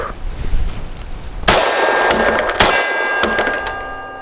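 Three sharp metallic clangs ring out from a steel target struck by shots from a SAR USA P8L pistol on a range, each hit ringing on and decaying, with a quieter stretch before the first and no talk.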